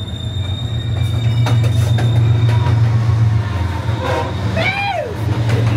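A luxury train rolls steadily along the rails with a loud, constant low rumble, faint rhythmic clatter, and a brief wheel squeal near the end.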